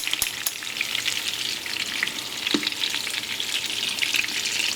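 Meatballs frying in a pan for a homemade Italian sauce give a steady, close crackling sizzle with scattered pops, with no voices.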